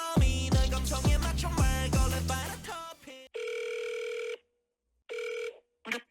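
A short melodic tune, then an electronic phone ringing tone in two long pulses separated by silence, and a brief clipped third burst.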